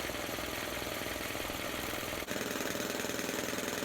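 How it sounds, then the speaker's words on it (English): An air compressor runs steadily with a loud, dense mechanical drone and a fast pulsing knock, briefly dipping once midway before carrying on at the same level. "I'll then start my air compressor."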